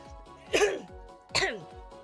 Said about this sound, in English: Terrible time to cough.